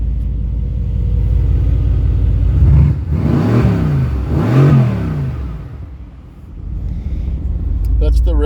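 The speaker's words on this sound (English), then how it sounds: "I'll give it a little rev." A 2020 Mercedes-AMG GT C with its exhaust in the regular setting is revved while stationary: a steady idle rumble broken by two quick throttle blips, then settling back to idle, close and loud.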